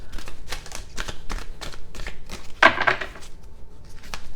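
A deck of tarot cards being shuffled by hand, a series of quick papery riffles and soft slaps in an irregular rhythm, close and moderately loud, with one sharper burst of card noise midway and no talking.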